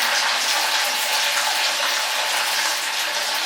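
Green chillies and ginger frying in hot oil, a loud, even, continuous sizzle at close range, with no talk over it.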